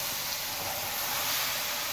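Chicken mince sizzles in a hot pan with a soft, even hiss that holds steady and quiet for the whole moment, without any talking.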